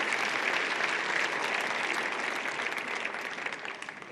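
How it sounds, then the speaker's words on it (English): Steady audience applause at an art competition awards finale, a dense wash of many clapping hands holding at an even level and easing slightly near the end. "they all deserve a round of applause"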